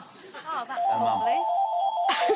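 A telephone rings with a steady electronic tone beneath lively overlapping talk and laughter, growing louder toward the end.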